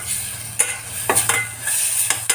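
Ingredients for fish soup, seasoned with coarse rock salt, sizzle close up in a pan while a spatula stirs, with bursts of scraping and clinks over a steady hiss.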